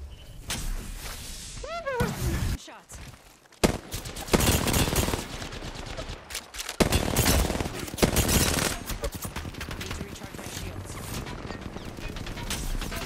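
Rapid bursts of automatic gunfire from the Apex Legends video game, dense and loud through most of the stretch, with brief pauses and some game effects mixed in.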